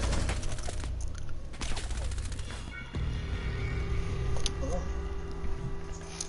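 Dense gunfire in the tactical shooter Rainbow Six Siege, loud and sustained bursts with rapid repeated shots, a brief lull near the middle before firing resumes alongside other game sounds.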